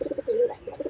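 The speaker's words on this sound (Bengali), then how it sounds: "দেওয়ার সঙ্গে সঙ্গে দেখেন কবুতরটা ডাকতেছে" A domestic pigeon coos right after being placed with a mate, its soft, throaty notes repeating in a quick rhythm with one longer drawn-out coo in the middle, close and clear.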